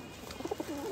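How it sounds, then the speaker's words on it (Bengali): A male pigeon gives a soft, close coo, a few low rounded throaty notes rolling together in about a second, quiet over a faint background hum. "নর কবুতরটা আমরা আগে নিব।"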